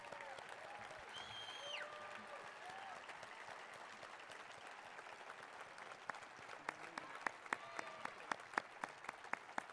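Applause from an audience at a police department annual awards ceremony in an arena, faint and distant at first, with sharper individual claps growing more distinct toward the end.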